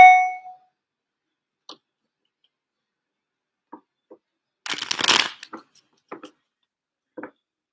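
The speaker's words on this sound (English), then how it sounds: "I'm going to pull some cards." Tarot cards are shuffled in one quick, close riffle burst, with a few soft taps and knocks before and after in an otherwise quiet room.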